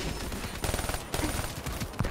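Rapid automatic gunfire in Call of Duty: Black Ops III on the Nuketown map, a steady, close rattle of machine-gun shots with a few heavier bursts.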